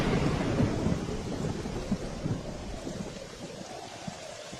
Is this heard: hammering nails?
no